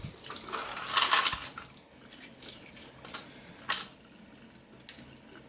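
Metal-detected coins get a quick rinse under running water, with faint splashing and a brief burst of trickling flow, followed by a few sharp clinks of metal and water.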